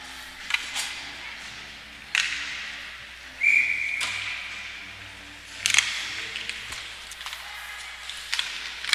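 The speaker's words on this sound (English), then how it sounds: "So the whistle's gonna go." A referee's whistle sounds in short sharp blasts at a U13 AA youth ice hockey game, ringing out over the hollow rink ambience, stick clacks and puck thuds.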